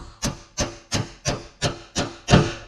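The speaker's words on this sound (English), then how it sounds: "Just take your knife and run it down through there till it stops." A knife blade drawn along the hidden weld seam of a custom welded truck bed, giving seven evenly spaced rasping scrapes up close, the last stroke slightly heavier and longer.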